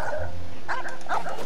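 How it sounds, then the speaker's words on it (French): A small dog barks in the video game Genshin Impact, a few quick yaps standing out over steady game background sound. "Oh, un petit chien."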